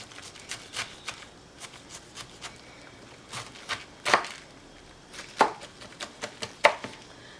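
A knife cuts through purple cabbage in a quiet kitchen, giving repeated crisp chops at an uneven pace. Several strokes are sharper and louder than the rest, and no one speaks.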